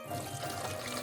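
Water pouring steadily as soaked plant-based ingredients are drained, a continuous close trickling wash with no voices.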